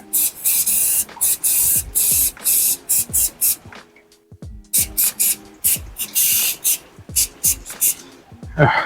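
Repeated short bursts of spray from an aerosol can of rust repair converter being applied inside a 1992 Subaru during a seat and boot liner rebuild, close and loud, with a brief pause midway.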